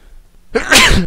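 A single loud, close sneeze bursts out suddenly after near silence, from a gamer at the microphone during an Aion session.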